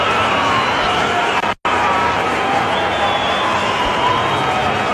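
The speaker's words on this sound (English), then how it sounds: "you can hear the cheers in the crowd because AB de Villiers is coming out to the middle" A large cricket stadium crowd sends up a broad, sustained roar of cheering and chatter as AB de Villiers walks out to bat, the noise loud and continuous apart from one brief dropout.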